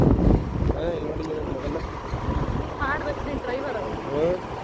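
A two-wheeler ridden with a passenger on the back, heavy wind noise buffeting the microphone over a low engine rumble, with faint chirps and a voice talking throughout.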